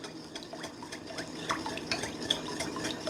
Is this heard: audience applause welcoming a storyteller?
no